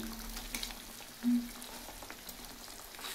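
Fish curry fries in a pan with an even, soft sizzle, and a brief tone sounds about a third of the way in as water is added.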